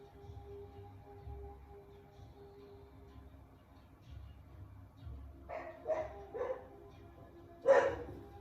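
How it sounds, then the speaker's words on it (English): A few distant dog barks toward the end, sharp and scattered over a low steady hum. "dogs barking in the background"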